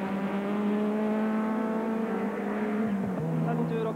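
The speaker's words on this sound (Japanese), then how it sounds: "36番のスープラが今戻ってきました" The number 36 Toyota Supra touring car pulls back into the pit lane at a 1987 World Touring Car Championship race, its engine holding a steady drone that drops in pitch near the end as it slows, with other cars around.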